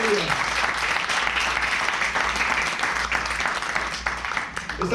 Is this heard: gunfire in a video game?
no